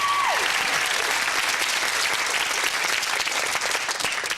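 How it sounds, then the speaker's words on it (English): Warm applause from the studio audience of the 1997 quiz show Whittle rolls on steadily and fairly loudly, with one brief whistle-like tone at the very start. "Round of applause there,"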